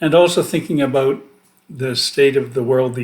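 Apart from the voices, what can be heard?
None of the usual background noises is heard.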